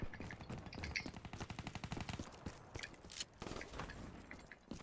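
Video game gunfire shooting at a teammate, a rapid, steady automatic burst of shots in a rhythmic stream lasting several seconds, moderately loud, with no talk.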